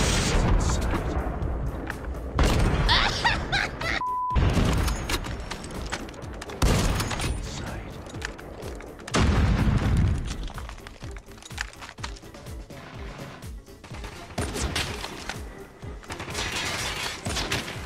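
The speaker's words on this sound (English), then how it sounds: "Grenade." Grenade blasts and gunfire in a team shooter match: several loud, sharp bursts and booms, separated by stretches of quieter rattling and crackling.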